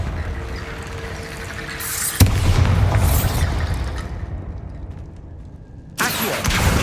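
A loud booming blast of the Bombarda spell in Hogwarts Legacy hits sharply, then a sustained rumbling roar trails off into quieter ambience, and a second burst of noise kicks in near the end.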